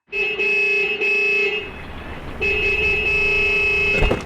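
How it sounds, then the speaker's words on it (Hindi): A car horn honks in several long, loud blasts separated by short gaps, close by, with a brief clatter at the end. "आप जैसे ही हॉर्न बजाओगे वो तुरंत आ जाएगी"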